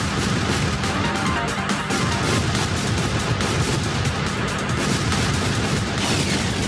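Smart bomb explosions and dense blasts crash continuously and loudly in the PC space shooter Echoes+, an Asteroids-style game. The heavy rumble and rapid bursts run without a break and drown out any other sound.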